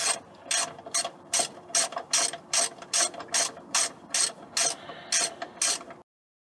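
A ratchet wrench with a 15 mm socket works transmission mount bolts on a Jeep TJ 2.5L, giving steady, close, regularly spaced clicking bursts of about fifteen strokes with no talk.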